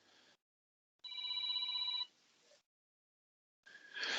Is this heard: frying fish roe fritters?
no